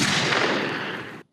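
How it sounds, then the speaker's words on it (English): Gunshot sound effect played as one dense, loud burst of blasts that sustains for just over a second before cutting off abruptly to silence. "Gunshots."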